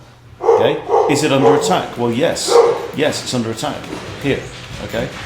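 A very excited dog yips and barks intermittently under continuous nearby male speech, the short bursts partly masked by the talking.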